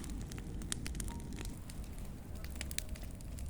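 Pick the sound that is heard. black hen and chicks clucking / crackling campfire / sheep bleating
crackling campfire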